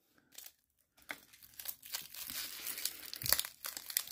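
A Pokemon TCG XY Evolutions booster pack being torn open, crinkling foil wrapper and tearing in close, quiet bursts after a brief pause, with no speech.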